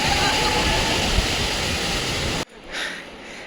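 Water pours steadily from a waterfall in the Kolli Hills, a loud, dense, continuous rush that cuts off abruptly and gives way to quieter ambient sound.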